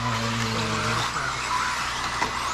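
A 4wd RC buggy racing on a track, its motor whining high and continuous with tires scrabbling and squealing, close and loud, the pitch shifting as it accelerates and slows through turns.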